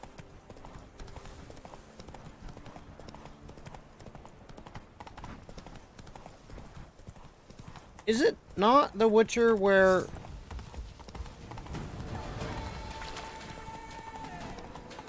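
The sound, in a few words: horse galloping in video game The Witcher 3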